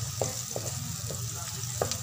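Garlic and onions frying in a pan for spicy butter garlic shrimp, a constant close sizzle with a few sharp utensil taps and scrapes from stirring.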